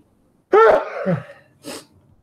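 A single sharp sneeze burst close to the mic, followed by a brief softer exhale a moment later, in an otherwise quiet room.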